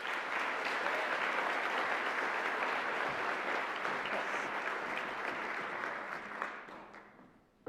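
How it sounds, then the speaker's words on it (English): Audience applause at a university honors banquet, a dense sustained wash of clapping from a roomful of people that fades out over the last seconds. "Let's give them a big round of applause for all their hard work."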